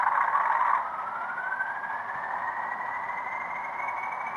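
A Hornby R3286TTS BR Class 40 'Empress of Canada' model locomotive sound unit starting up. A brief burst gives way to a steady, slowly rising whine from a small speaker, heard alone and fairly quiet.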